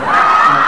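A large audience at the Sina.com awards ceremony in China cheers loudly, a dense roar of shouts and whoops close and sustained for the whole short moment.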